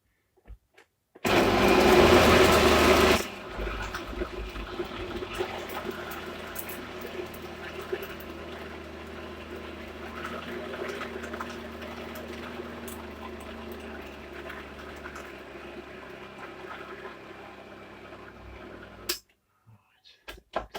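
A kitchen blender whirs through hummus ingredients, starting with a loud, harsh two-second roar, then settling into a steady, softer grinding hum for about fifteen seconds before cutting off abruptly.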